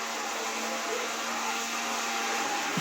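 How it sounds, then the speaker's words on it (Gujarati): A kitchen mixer grinder runs nearby with a steady motor whine and a broad, even whirring hiss that never lets up. "ઓલી ચાલુ કરે જો મિક્સર"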